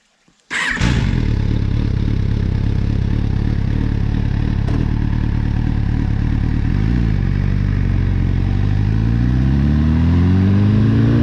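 An MV Agusta Brutale motorcycle engine fires up suddenly after a brief quiet moment and then idles loudly and steadily up close, with a blip of revs near the end.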